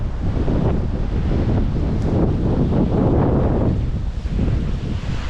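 Strong wind blowing with snow outdoors beside Hells Gill beck, a loud continuous roaring buffet across the microphone with no let-up and no talk.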